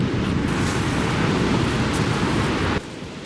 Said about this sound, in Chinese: 这个海浪